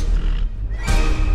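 A horse gives a loud, close whinny, its shrill cry rising and breaking over about a second and a half.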